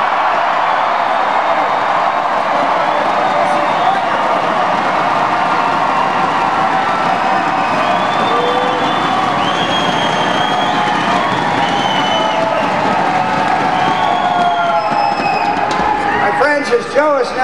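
A large, enthusiastic crowd at a John McCain campaign rally in October 2008 cheers and shouts steadily throughout, a dense sustained roar with scattered whistles and claps, loud and continuous without a break.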